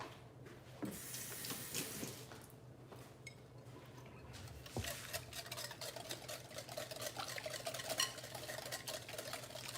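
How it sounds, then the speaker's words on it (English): Salad dressing with pepper and a little sugar is whisked in a bowl, a quiet, continuous light scraping and clinking that runs steadily throughout, alone without talk. "Whisk that together."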